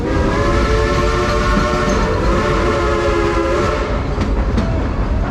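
A Dollywood theme park train rumbles steadily along with a clattering rhythm, loud and close, while a horn blares in sustained tones throughout.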